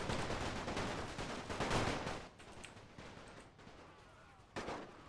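Musket volleys crackle through a Napoleonic battle in Napoleon Total War as a dense, rolling wall of distant gunfire, easing slightly midway before another sharp burst near the end.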